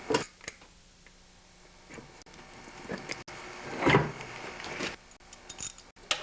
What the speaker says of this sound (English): And I'll remove all the bolts.